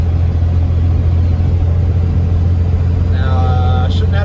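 A Cummins diesel engine in an F350 pickup towing a load of cattle and hay in fifth gear, a loud, steady low rumble with constant road noise and a brief whining tone near the end.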